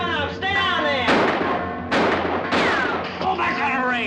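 Gunfire in a 1954 black-and-white western film: several loud, sharp bursts over a few seconds, mixed with a musical score and a film soundtrack.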